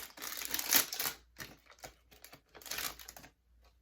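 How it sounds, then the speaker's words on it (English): Small plastic package for an adjustable ring being opened: quiet crinkling, tearing and tapping bursts in an irregular sequence, close and soft, with brief pauses between. "let's open up this little plastic package"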